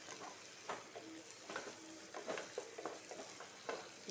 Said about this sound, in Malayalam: ഇഞ്ചി വെളുത്തുള്ളി കൊച്ചുള്ളി ഈ പേസ്റ്റ് നമുക്ക് അതിലോട്ട് ചേർക്കാം പച്ചമുളക് ഇനി നന്നായിട്ട് ഇളക്കി കൊടുക്കാം